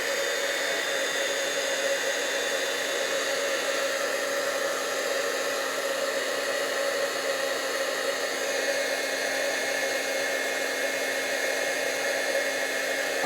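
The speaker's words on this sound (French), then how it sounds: "Il faut que je vienne fixer ça avec le pistolet chauffant." A heat gun blows a steady, even hiss of hot air to melt embossing powder on a craft page, running continuously and close without pause or voices.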